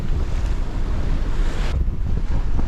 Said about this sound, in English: The wind gusts going from 10 to 30 knots and changing 50 degrees at a time.